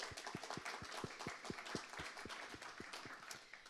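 An audience applauds sponsors at a Stu Halloway tech talk, a steady indoor patter of many hands with a regular beat of louder claps running through it.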